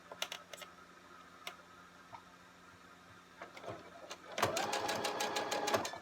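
Sewing machine stitching a fabric face mask, a few isolated clicks from handling, then a close, fast burst of rapid mechanical stitching near the end.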